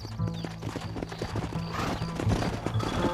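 Rhythmic hoofbeats of a galloping horse in Red Dead Redemption, steady and close, with a brief whinny and some background game ambience.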